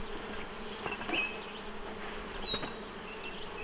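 Honeybees buzzing steadily around an open hive during a weekly inspection, a dense, continuous hum with a few individual bees whining past close by, no talk.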